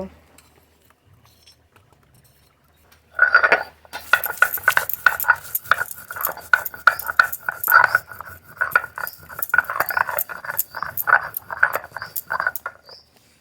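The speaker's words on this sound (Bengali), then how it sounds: "এবার এই মশলাটা বেটে নেব" Spices for a puti fish and bean curry being ground by hand: steady, rhythmic scraping strokes up close, starting after a short quiet pause and continuing evenly to the end.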